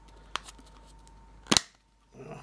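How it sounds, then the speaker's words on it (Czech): A plastic protective back cover pulled off a Huawei Y6 Pro phone: a small click, then a sharp, loud snap as it releases, followed by faint rustling handling. "Tak to první musím sundat, tedy tady ten zadní ochranný kryt."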